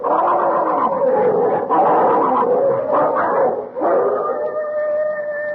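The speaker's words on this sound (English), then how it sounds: "Oh, it's them dogs. They're fighting again." Sled dogs fighting in an arctic setting, a loud continuous tangle of snarling, howling and yelping voices that swells and breaks, ending with a few sustained howls.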